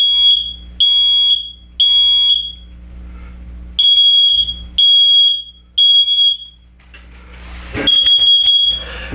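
A wall-mounted smoke detector sounds its test alarm, loud piercing beeps in a three-pulse pattern repeated twice, followed by a clattering handling noise and a final long beep.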